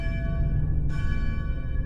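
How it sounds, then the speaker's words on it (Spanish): A chapel bell in a former convent, heard within a horror tale, strikes once with a clear metallic clang and a long ringing overtone tail, over a low ambient drone, with no voices. "Era la campana de la capilla que resonaba en los pasillos del exconvento"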